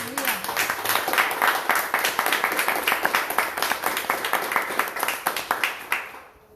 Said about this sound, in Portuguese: Você pode dar um forte aplauso ao Senhor Jesus?